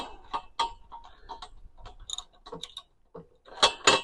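A 10 mm socket wrench tightens a bolt on the wooden base of a polytunnel greenhouse frame, making close, quick ratcheting clicks in short bursts with brief pauses and no speech.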